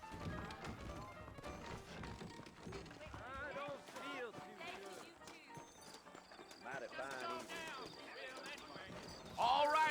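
Hooves clip-clop in a steady rhythm beneath voices talking, with a horse's whinny and other game sounds mixed in, from the video game Red Dead Redemption.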